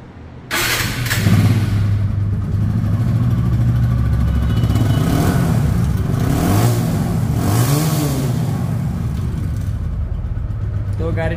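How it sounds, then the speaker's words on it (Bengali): A second-hand TVS Apache RTR 160 2V motorcycle starts and idles close by, its engine running steadily with a few throttle blips rising and falling, loud and continuous until it stops. "তো গাড়িটির সাউন্ডটি আপনাদেরকে শোনাই, সাউন্ড শুনলে বুঝতে পারবেন গাড়িটি কতটা সুপার ফ্রেশ কন্ডিশন অবস্থায় রয়েছে।"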